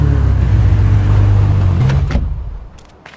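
A car engine hums and rumbles loudly while driving in a video game, a low steady drone that fades out over the last second.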